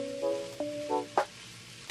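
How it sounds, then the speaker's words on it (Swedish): Tofu frying in oil in a pan gives a short burst of sizzling with a few sharp pops and clicks, close and moderately loud, with no talking. "Nu är det bara till att steka tofun i olja."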